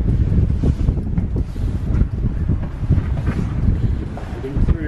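Strong gusty wind on a coastal path near Corfe Castle buffets the microphone in uneven, rumbling bursts, loud and close, with no clear voices.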